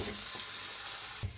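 Chicken with saffron sautéing in a pan, a steady close sizzle and frying hiss with a brief stir near the end.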